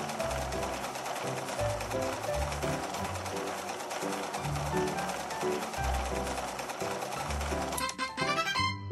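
In a children's fashion dress-up video game, a synthetic sewing machine effect loops a rhythmic stitching pattern over a thumping low pulse, ending in a short bright chime.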